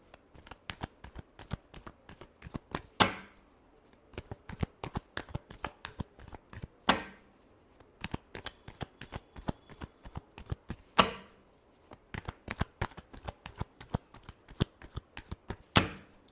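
Tarot cards are shuffled close up in quick riffling bursts of crisp taps and flutters, with a few louder snaps as the deck is squared, repeating steadily with no speech.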